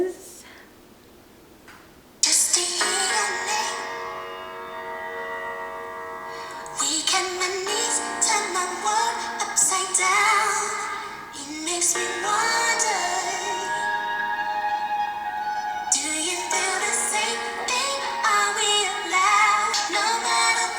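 A song: after a quiet opening, steady R&B music with sung vocals plays loud and continuous for the rest of the excerpt.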